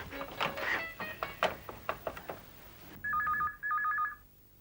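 A landline telephone is dialed with a rapid series of distinct key tones, then a ringing tone sounds in two close, steady bursts in a quiet room.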